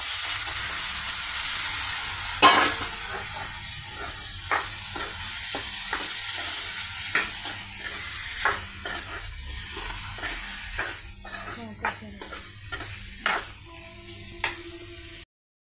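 Boiled potato pieces go into a simmering chana dal and potato curry, bringing a loud, bright sizzle. Irregular scraping clicks of stirring grow busier toward the end.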